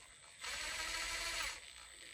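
A power driver tightens screws on RC4wd differential covers fitted to AR44 axles on a long-bed Squarebody scale truck, giving one steady whirring run of about a second, close and fairly faint, with no talk.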